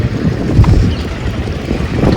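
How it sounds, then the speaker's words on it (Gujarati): Strong wind at the seashore buffets the microphone in low, rumbling gusts, loud and close, with faint wave wash underneath and no voices. "મજા આવે પવન મસ્ત આવે છે"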